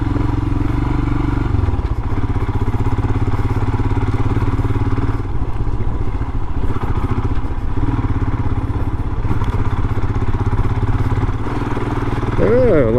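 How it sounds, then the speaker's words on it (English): A Royal Enfield Himalayan motorcycle engine labors up a steep hill off-road in Scotland, a loud continuous close thumping drone with steady rhythm, and wind rushing past the microphone. "It's quite a steep hill, so just let the engine do the work."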